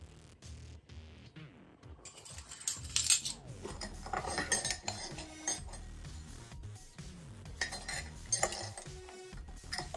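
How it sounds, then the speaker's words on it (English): Metal teaspoons clink and scrape against containers while black pepper is measured out for a chicken seasoning, giving a busy run of close, bright cutlery taps and rattles with no talking. "I'm going to go in there with two teaspoons of black pepper."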